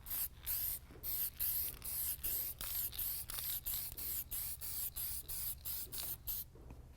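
Spray gun laying a coat of automotive paint during body work, rhythmic bursts of hissing spray in short pulses with brief gaps between passes, close and steady with no talking.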